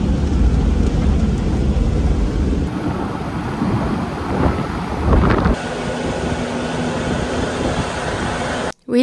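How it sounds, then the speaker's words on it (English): Strong wind buffets a microphone on a high volcano road near a crater rim in Ecuador, a steady broadband roar with low rumbling gusts lasting throughout and cutting off briefly at the end. "Hopefully there won't be too much wind because it's pretty windy right now"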